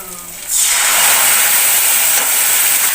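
Lentils dropped onto fried onions and chillies in hot oil, bursting into a sudden loud, close hiss that starts half a second in and holds steady to the end.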